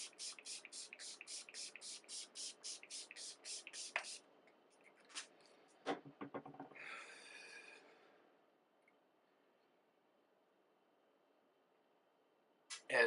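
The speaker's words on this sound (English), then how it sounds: "I'm going to set my face with the Urban Decay All Nighter Setting Spray." Urban Decay All Nighter setting spray is misted onto a face in a rapid series of about a dozen close, quick pump sprays, followed by a few softer scattered bursts and then near silence.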